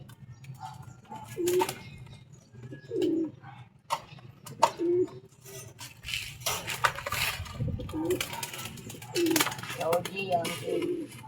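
Pigeons coo repeatedly at close range in a steady rising-and-falling rhythm, with wing flutters and scuffling between the calls and someone talking over them.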